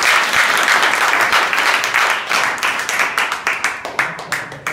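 An audience gives loud, sustained applause for a backing team at a skill development institute event, dense clapping that thins into scattered individual claps toward the end.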